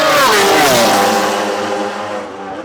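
Toprak Razgatlıoğlu's racing motorcycle passes close at high speed on a race circuit, a loud high-pitched engine scream that drops in pitch and fades as it moves away.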